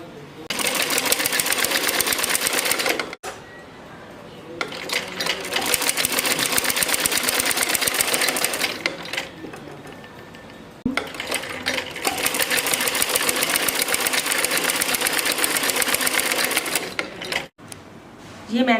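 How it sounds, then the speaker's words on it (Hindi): Sewing machine stitching both sides of a salwar belt, running in long steady bursts of rapid needle chatter separated by brief pauses, with a voice speaking in between. "अब हमें इन दोनों तरफ से टांका लगाना है"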